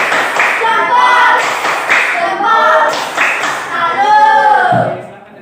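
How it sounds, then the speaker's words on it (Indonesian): A class claps a patterned salute rhythm in quick rhythmic bursts, mixed with children's voices chanting along throughout. "tepuk salut untuk Sania dong, tepuk salut."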